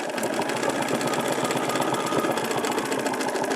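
A sewing machine stitches the spine of a quilted feather template, running in a steady, fast, continuous mechanical whir close by with no voices.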